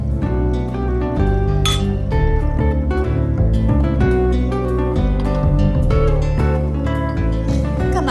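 Glasses meet in a toast, giving a bright, quick clink that rings out over steady, loud background music.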